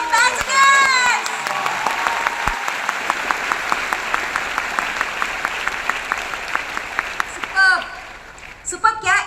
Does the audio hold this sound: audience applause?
yes